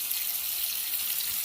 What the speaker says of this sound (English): Gonna fill it up with water, and then I'm gonna put it to boil.